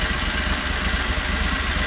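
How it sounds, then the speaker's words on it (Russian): A Borus Extreme snowmobile engine idles while warming up, giving a steady, loud, close drone with even low rumble and no talk. "мотор прогревается"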